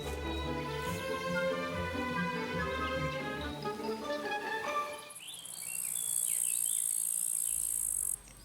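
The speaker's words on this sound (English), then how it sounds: "When the grasshopper chirps, the gardening year enters its final phase." A grasshopper in an autumn garden gives a steady, fast rhythmic chirping close by, then stops and gives way to a sustained high, thin buzzing trill for the last few seconds.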